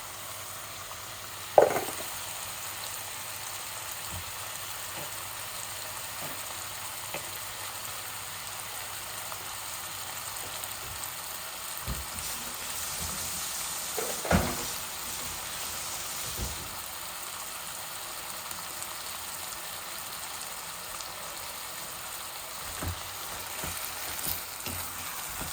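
Chicken pieces sizzle and fry steadily in plenty of hot oil with ginger, garlic and spices for a chicken-and-potato curry, with a few louder spoon knocks and stirs against the pan and no talking.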